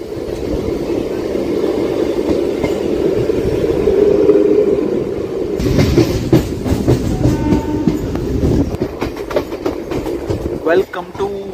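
A train runs on the railway at the outer signal of Vinukonda station in Andhra Pradesh. A steady rolling rumble gives way to loud, rhythmic clickety-clack of wheels over rail joints that grows denser toward the end, with voices mixed in.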